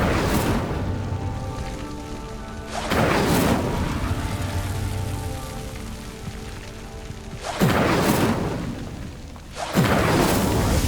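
The Incendio fire spell in Hogwarts Legacy ignites pyres with four loud whooshing bursts of flame, each followed by a rumbling roar of fire, set against a steady ambient bed.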